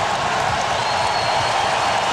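A capacity crowd at a Lakers–Spurs Western Conference Finals playoff game in the Lakers' arena roars and jeers steadily as a dense, continuous wash of noise.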